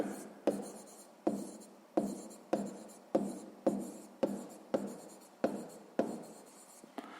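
A pen writes in a notebook during a sixth-grade maths exercise, with about a dozen regular strokes sounding close and crisp, each ending in a sharp tap followed by a short scratch.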